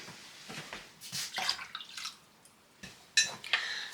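Water is poured in short splashing bursts into a pot of pickling brine with sugar, several uneven pours and drips at close range, with no voices present.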